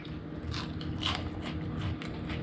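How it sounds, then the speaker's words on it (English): Crunchy bites into freshly caught fried black drum fish, a few crisp crackling chews up close against a low steady background hum, with no talking. "Are you crunching? You hear that crunch"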